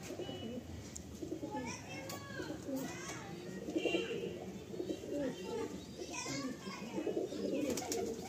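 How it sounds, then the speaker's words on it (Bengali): Pigeons from a bloodline loft coo softly and steadily, a layered, throaty murmur that runs throughout, with a voice speaking faintly in the background. "পায়রাগুলো খুব চনমনে।"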